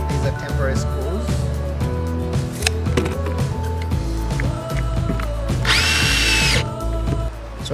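A power drill drives temporary screws into wood while building a branch swing, a loud whirring motor with rising and falling pitch and a higher burst near the end, heard up close.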